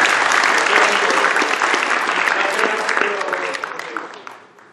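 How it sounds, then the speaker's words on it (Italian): An audience at a science talk about the Moon breaks into sustained, loud applause that swells densely and then fades out toward the end. "applauso per i ragazzi del Consiglio"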